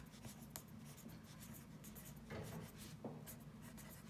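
Pencil or pen writing on paper during a maths lesson, soft close scratching strokes in quick irregular bursts, quiet and alone with no voices.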